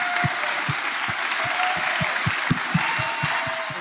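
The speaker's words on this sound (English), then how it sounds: "can we just start with like a 3 clap?" Audience applause at an open source awards ceremony, a steady wash of many hands clapping with a few sharper claps standing out, loud and continuous throughout.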